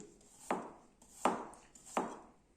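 A serrated Suba kitchen knife slices through food in three even strokes about three-quarters of a second apart, each a crisp close cut over a quiet background.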